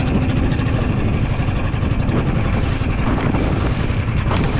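Strong northeast monsoon wind roars steadily and loudly on a skipjack tuna fishing trip, buffeting the microphone with a constant low rumble and no letup.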